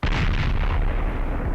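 A weapon explodes in an indie space game, a single loud, close, booming blast with a heavy low rumble that decays over about a second and a half.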